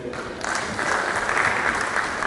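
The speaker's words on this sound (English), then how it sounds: "Big round of applause for them." A crowd at a university event breaks into sustained applause, a dense even wash of clapping that swells after a moment and holds steady.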